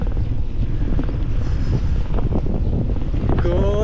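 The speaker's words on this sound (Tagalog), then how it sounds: "Pinipigilan ng hangin tayo" Steady, heavy wind buffets the microphone in a continuous low roar, with a brief whistling tone near the end.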